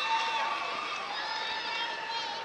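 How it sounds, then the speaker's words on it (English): A crowd at a high school state wrestling final cheers and shouts continuously, a dense, steady roar heard from within the gym, with an announcer's voice over it. "Ronnie Bresser getting his crowd to make a little noise"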